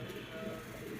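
Golla pigeons coo in low, soft, throaty bursts, steady and fairly close, with a faint mechanical rumble underneath and no talking.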